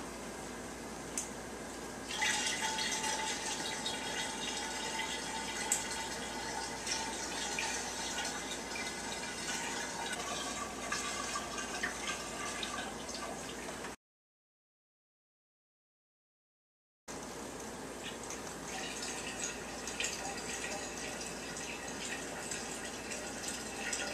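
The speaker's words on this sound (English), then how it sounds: "now we're going to put in some ice water here" Ice water poured into a five-gallon mead brew of honey, a steady close splashing and trickling that runs for several seconds, stops briefly, then pours again.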